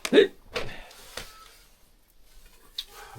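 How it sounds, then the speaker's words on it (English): A single sharp hiccup bursts out near the start during a ghost investigation at Magpie Mine, followed by a few softer breathy sounds and then near-silence. "Apart from my hiccup."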